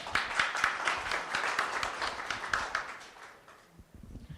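Audience applause at a venture capital panel event, a dense burst of many hands clapping at a lively, steady pace that thins out and fades toward the end.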